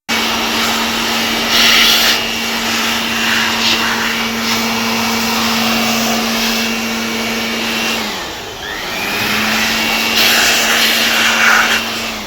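Compressed air blows dust out of a computer's CPU fan during a deep clean, a loud, steady whine with a high-pitched spinning tone that drops out briefly near the end and then resumes.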